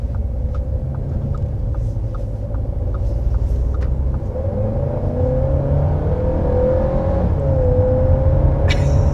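A 2022 Audi A3 engine accelerating while driving: a steady cabin rumble with engine tone that rises smoothly in pitch, loud and continuous throughout.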